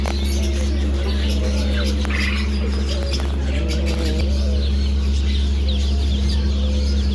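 Small colored chicks, apparently in a market setting, chirping and clucking in scattered, overlapping calls over a constant loud mechanical hum.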